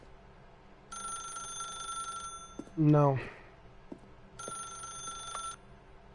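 Old-style telephone bell ringing in The Stanley Parable video game, two long rings separated by a pause, with a voice speaking briefly in between over a low room hum.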